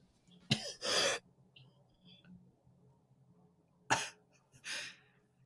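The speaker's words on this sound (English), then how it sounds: "I'm going to cough now." Two pairs of harsh, close coughs, each a quick double burst, separated by a few seconds of quiet breathing and low room hum.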